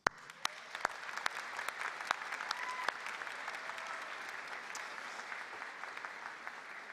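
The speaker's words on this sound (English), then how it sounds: "You made it, and that deserves a round of applause." Steady audience applause fills a commencement ceremony hall, many hands clapping in a dense, even wash with a few sharper claps standing out, moderately loud and sustained throughout.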